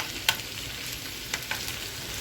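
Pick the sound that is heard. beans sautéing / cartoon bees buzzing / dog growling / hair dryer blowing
beans sautéing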